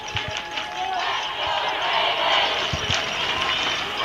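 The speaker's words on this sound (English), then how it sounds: "Boy, the Ravens crowd pumped up, but they travel well." Stadium crowd at an NAIA college football playoff game, Texas Wesleyan vs. Benedictine, giving a steady roar and cheer with scattered shouts, under an announcer's voice.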